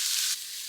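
Food seared in a pan sizzles in a bright, steady hiss that drops in level partway through and continues more softly, close and on its own without speech.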